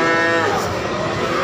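Cattle moo at the Ambarawa cattle market, a long, loud bellow with rich harmonics that holds steady for about a second and a half, with no talk over it.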